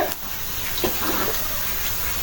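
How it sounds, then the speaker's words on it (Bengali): A brief gush of water hitting fried onions, green chillies and spices in a pan, followed by a continuous hissing sizzle. "মশলাটা কষানোর জন্য সামান্য একটু পানি দিয়ে দিই"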